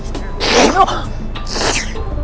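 A person sneezes twice in quick succession from a pollen allergy. Both sneezes are loud, close and explosive.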